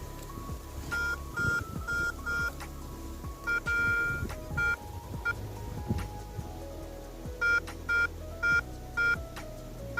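A Garrett Ace 250 metal detector sounds short, high electronic beeps over a shell casing in repeated bursts, some in quick groups, over soft scraping and rustling.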